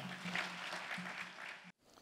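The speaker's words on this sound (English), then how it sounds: "Could I have a round of applause" Audience applause at an afternoon keynote for a speaker being introduced, a continuous wash of clapping that cuts off abruptly near the end, somewhat distant and quiet.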